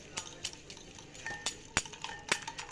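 Semolina batter is mixed in a bowl while more semolina goes in a little at a time, with soft scraping stirs and a few sharp clinks of a spoon against the bowl, close and fairly quiet.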